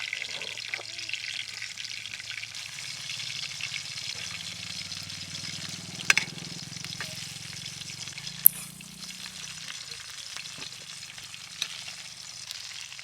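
Tilapia fish coated in masala and semolina frying on a tawa in oil over a wood-fired clay stove, giving a steady close hiss and sizzle throughout, with a few sharp clicks and spatters and a low rumble underneath.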